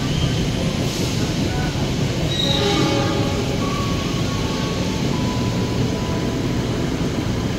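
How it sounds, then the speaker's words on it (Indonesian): The Argo Merbabu executive-class passenger train on the Jakarta–Semarang run passes through a busy Jakarta station, a loud, close, continuous rumble of wheels on rail with high squealing tones drifting over it. "kereta api Argo Merbabu"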